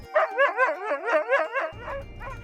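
Sled dogs in Charlevoix bark and yowl in a rapid, rhythmic string of loud, near yelps just before a dog-sled departure, with a second dog joining toward the end.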